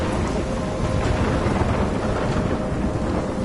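Steady, loud storm noise with a broad continuous rumble and wash of rain and wind, sustained throughout with no distinct breaks.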